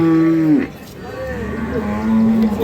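A dairy cow moos loudly nearby at a cattle market, with her calf, a long low call that bends in pitch, followed by a second drawn-out moo.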